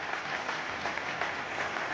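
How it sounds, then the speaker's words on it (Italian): Spectators at a women's Serie A roller hockey match applaud in a steady wash of clapping from a crowd. The clapping is fairly loud and continuous and sounds even across the stands. "tra gli applausi del pubblico"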